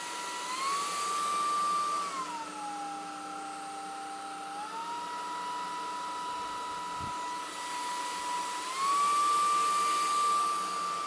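A Honiture S13 cordless vacuum cleaner runs steadily with a high motor whine, shifting pitch down and back up as the power setting changes, close and alone without talk.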